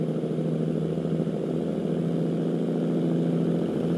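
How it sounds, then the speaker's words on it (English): A truck engine in American Truck Simulator drones steadily at a low, even pitch, a continuous mechanical hum holding level throughout without voices. "I'm in love with the sound of this engine."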